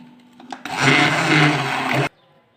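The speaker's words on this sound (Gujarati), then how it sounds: "તો આપણે દાળને ભાજી દઈશું." A kitchen blender whirs loudly for about a second and a half as it mashes cooked dal with spices, starting and stopping abruptly after a couple of soft knocks.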